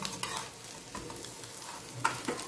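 Potato patties shallow-fry in a little oil, a soft continuous sizzle with light spatula scrapes and a few brief clicks, quiet and close.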